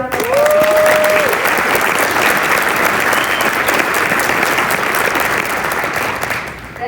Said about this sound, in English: Now let's give these 2 a round of applause.